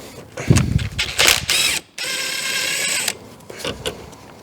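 Ratchet wrench clicking on a 10 mm bolt during service work on a 2005 BMW 740Li, with short bursts of close ratcheting followed by a longer steady run of rapid clicks, no talking.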